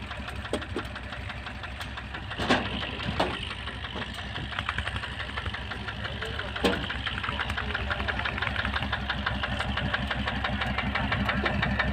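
A running engine with a steady rumbling, thumping rhythm, close by, with a few sharper knocks and faint talk in the background.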